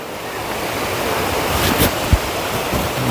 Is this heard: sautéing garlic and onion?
no